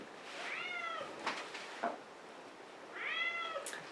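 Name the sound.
cats meowing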